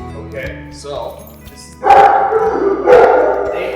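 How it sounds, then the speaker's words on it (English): Military working dogs, including a German Shepherd, bark loudly in two close bursts inside a kennel, with a voice talking earlier in the clip. "they are gonna bark, so I'm gonna try to speak up as loud as I can"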